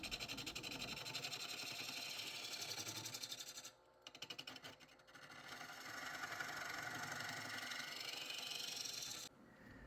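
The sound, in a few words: half-inch spindle gouge flattening bottom of ash bowl on lathe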